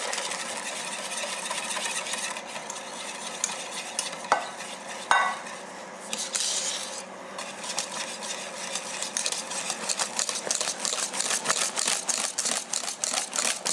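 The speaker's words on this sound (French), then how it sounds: "on incorpore ensuite cet appareil dans le lait en ébullition" A cream mixture is whisked into boiling milk for crème mousseline, with a steady bubbling hiss under brisk, rapid whisk strokes that grow into a fast rhythmic beat toward the end.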